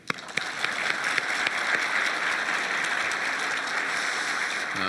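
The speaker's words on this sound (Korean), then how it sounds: "박수라도 한번." An audience at a Chungcheong regional industry briefing breaks into applause, steady continuous clapping from a crowd that begins abruptly and holds at an even level.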